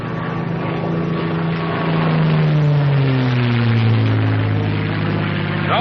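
Engine of a P-51B fighter aircraft pulling out of a dive, a loud steady drone whose pitch slides gradually lower across the whole stretch, with no speech.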